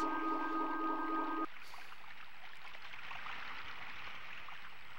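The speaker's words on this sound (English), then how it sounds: "I like you can hear the flow of the water." Gentle flowing water in The Legend of Dragoon video game forms a steady, soft wash that continues throughout, with a brief tonal music or chime fragment at the very start before the water carries on alone.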